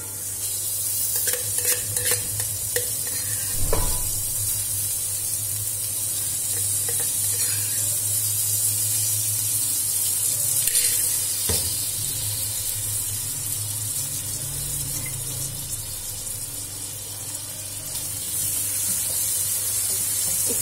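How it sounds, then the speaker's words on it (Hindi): Onions sizzle in ghee in a cooking pot, a bright continuous frying hiss broken by occasional stirring scrapes and clinks, close and fairly loud throughout. "ये देखें प्याज मैंने पतीले में डाल दिए और आधा तकरीबन कप के बराबर हम इसमें घी डालेंगे।"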